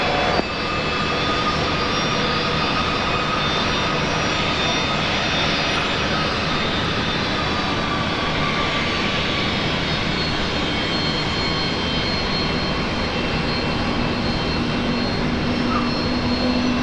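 A Qantas Boeing 787 sits at Brisbane Airport during a busy morning, its jet engines giving off a steady, loud whine and rumble that holds constant throughout.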